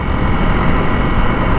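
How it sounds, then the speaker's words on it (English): A gust of wind blasts across the microphone of a CRF300L dual-sport motorcycle on a ride, a loud, steady, broadband roar blended with engine and road noise, with no speech. "Good gust of wind there."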